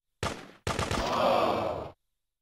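Gunfire in an overhead-view Grand Theft Auto game: a brief burst of shots, a split-second gap, then a longer sustained volley of harsh, noisy cracks, loud and with no voices.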